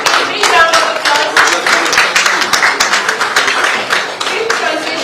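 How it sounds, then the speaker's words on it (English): An audience claps at a prize-giving ceremony for a World Environment Day celebration, a lively round of many hands with distinct sharp claps close by, sustained and fairly loud. "Please give me a round of applause."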